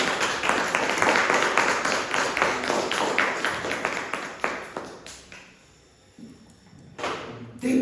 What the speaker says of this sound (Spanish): ¿Por qué no le das un aplauso?